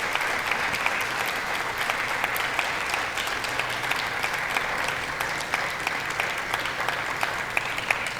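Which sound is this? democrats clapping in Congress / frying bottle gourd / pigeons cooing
democrats clapping in Congress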